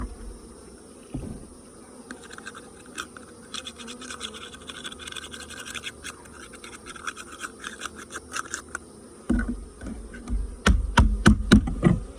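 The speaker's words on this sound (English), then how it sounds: "I scrub it some more." Scrubbing at beehive equipment beside an open hive split, with a steady rasping scrub under continuous bee buzzing, the strokes growing louder and more forceful near the end.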